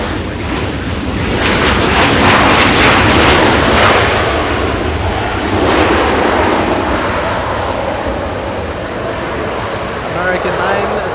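A jet airliner, an American A321 arriving at Los Angeles International Airport, roars as a broad, sustained rumble that swells and fades slightly, with wind buffeting and background voices.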